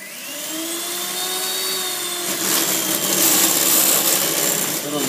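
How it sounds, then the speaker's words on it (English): An electric hand mixer beats wet ingredients for vegan banana muffins with a loud, steady, whining motor hum close by. The beaters grow harsher and more rattly toward the end. "you want to use beaters or some kind of mixer because you really want to get them, you want to incorporate a lot of air into them"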